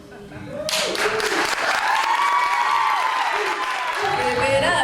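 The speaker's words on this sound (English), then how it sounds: "Give it up, one more time for Isha." An audience at a youth poetry showcase bursts into applause after a poem, with dense clapping starting abruptly and holding steady, mixed with cheers and raised voices.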